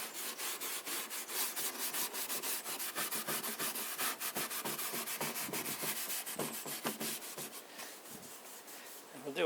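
Boiled linseed oil is rubbed by hand into dry timber veneer on a Singer sewing machine dome top, making quick, rhythmic back-and-forth scrubbing strokes that are close and steady, with no talking.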